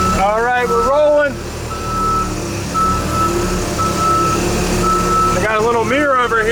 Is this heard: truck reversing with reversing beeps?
yes